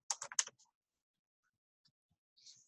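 Quiet keystrokes on a computer keyboard come in a quick cluster of clicks at the start, followed by near silence, a few faint isolated taps, and a soft rustle at the end.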